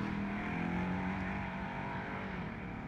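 An off-road race car engine roars at full throttle during King of the Hammers 4400 qualifying on a short course, steadily at high revs, loud and close, with a continuous droning pitch throughout.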